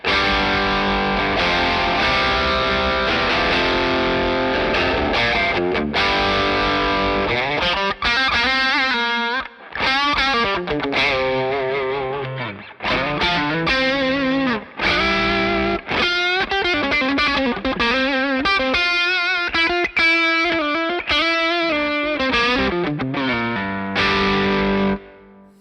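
Electric guitar driven through a JHS Bonsai overdrive pedal on its OD1 setting, played as a continuous run of chords and single notes with smooth, moderately gritty tone, loud and alone, with a brief pause partway through.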